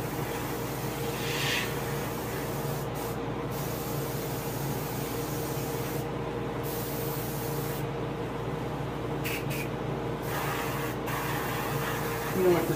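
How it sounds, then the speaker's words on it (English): Spray painting a largemouth bass taxidermy mount with angled passes over the fins: a steady airbrush hiss running continuously, broken by a few short pauses, with a low hum beneath. "when I angle spray, that I hit the fins"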